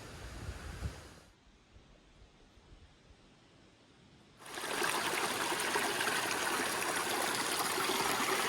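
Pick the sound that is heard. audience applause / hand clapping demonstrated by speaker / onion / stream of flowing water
stream of flowing water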